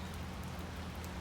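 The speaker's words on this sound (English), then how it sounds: "And it's raining" Steady rain falling outdoors on a sheep farm, a faint, even patter with no break and no voices.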